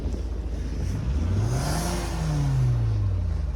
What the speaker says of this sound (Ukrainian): Газує.